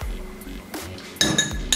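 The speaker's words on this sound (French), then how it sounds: "on va mettre 2 cuillères de sucre" Sugar spooned into a mojito glass, heard as a few bright metallic clinks of a spoon on glass separated by short pauses, close and fairly loud.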